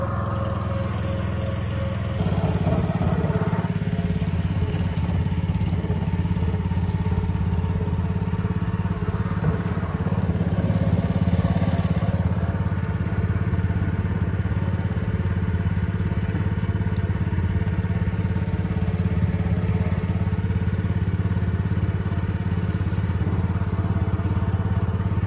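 A motor boat's engine runs steadily on a lake during a fishing outing, throttled back to a slow cruise. It makes a continuous, fairly close, low rumbling drone for the whole stretch, with no talking.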